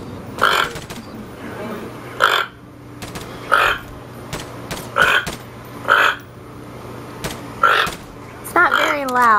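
Croaking alarm calls come from a pet toucan in Berlin, rough grunting notes like a frog crossed with a pig. Seven or so loud bursts repeat at steady intervals up close over a low background hum, with a warbling, squeakier call at the end.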